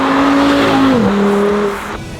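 A budget supercar drives by with a loud, close engine drone that holds a steady pitch, then drops lower and fades slightly as it settles.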